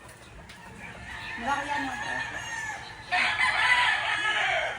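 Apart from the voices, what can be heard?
chicken clucking and crowing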